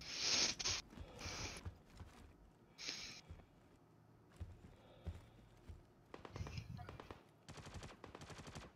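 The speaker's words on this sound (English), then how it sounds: "I hear shooting." Bursts of automatic gunfire from a Star Citizen Star Marine match, several sharp rapid volleys spaced across the clip, loud and close, with quieter clatter between them and no voices.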